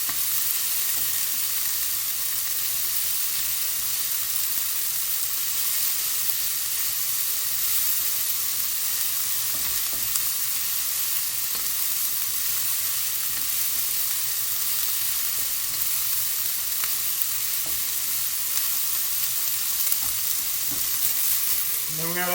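Chicken and garlic sizzle steadily in a hot stir-fry pan, a dense continuous frying hiss with faint stirring scrapes, loud and close with no talking.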